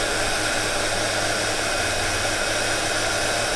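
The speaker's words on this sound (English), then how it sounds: "I think it's every person's favourite thing is to watch heat embossing happening" A heat gun blows steadily during heat embossing, a loud continuous broadband whoosh with a low motor hum underneath, running without pause throughout.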